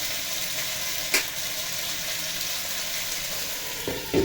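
Food frying in a pan as it is stirred, a steady loud hiss with a couple of brief scraping knocks from the utensil, close by and without talk.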